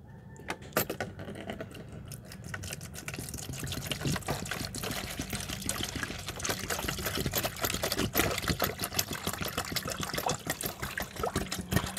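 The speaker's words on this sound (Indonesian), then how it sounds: "Nah, sekarang saya mulai pengisian airnya." Water pours into a container holding a water level sensor for a flood alarm, a steady splashing trickle with dense irregular droplet ticks that grows fuller and busier over twelve seconds, no voices.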